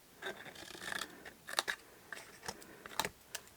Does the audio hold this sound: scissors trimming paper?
yes